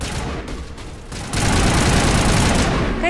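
Dense automatic gunfire in a Mass Effect firefight, loud and close, rising into a continuous barrage after a short choppier opening.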